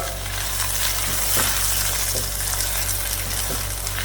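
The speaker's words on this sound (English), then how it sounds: "I'm going to add some chili powder, turmeric powder, coriander powder, and give it a stir." Chili, turmeric and coriander powders fry in a pan with a loud, continuous sizzle and hiss, broken by repeated stirring scrapes, close up and without voices.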